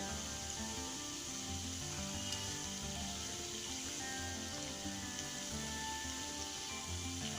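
Potato shreds drop into hot oil and fry, giving a faint, steady crackling sizzle and bubbling that holds evenly throughout, with no voices.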